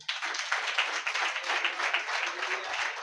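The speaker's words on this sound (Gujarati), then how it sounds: "પાસ્ટર અજીતભાઈના માટે આપણે બધા તાળીઓ મારીએ." A church congregation applauds for a pastor: dense, steady clapping from many hands that runs without a break for about three seconds.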